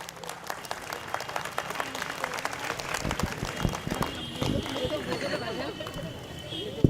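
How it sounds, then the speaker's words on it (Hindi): A crowd claps and cheers loudly for several seconds, with voices mixed into the dense applause. "एक जोरदार तालियां"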